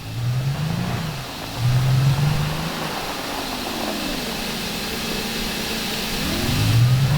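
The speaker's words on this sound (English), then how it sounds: "Okay, it is this car that is making that sound." A car engine in the game Alan Wake revs up and down in repeated surges over a steady running drone, close and fairly loud with no talking.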